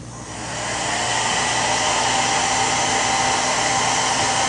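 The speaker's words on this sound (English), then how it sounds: "heat and air from your blow dryer should help" A blow dryer blasts hot air steadily and loudly while warming a buckled hair weave track, a continuous broadband roar with a low motor hum that swells up in the first half second and then holds even.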